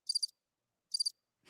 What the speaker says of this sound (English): Cricket noise.